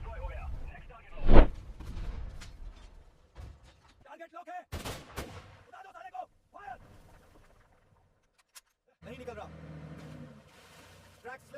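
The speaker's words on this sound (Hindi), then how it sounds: "आर्टिलरी हर तरफ से आ रही है।" Artillery and gunfire in a war dramatization with tanks and a jeep: a heavy explosive blast early on, then scattered shots and rumbling bursts amid vehicle noise, with voices speaking between the explosions.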